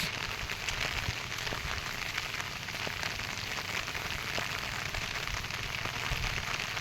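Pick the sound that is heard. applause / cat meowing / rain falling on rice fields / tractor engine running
rain falling on rice fields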